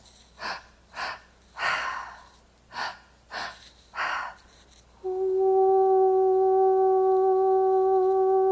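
Slow, deep breaths during a guided meditation, six distinct inhale and exhale cycles in a steady rhythm, then a sustained low resonant tone takes over and holds.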